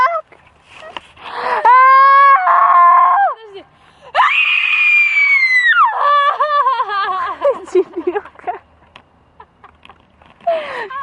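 Loud, sustained screaming from people on a yacht, several long high-pitched shrieks with short breaks between them, mixed with laughter and whimpering close to the microphone.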